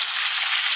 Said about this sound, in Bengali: মাছটাকে আমি ভেজে নেবো লাল করে।